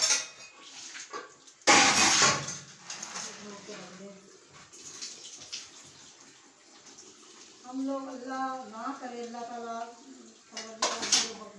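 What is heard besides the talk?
washing dishes, pots and utensils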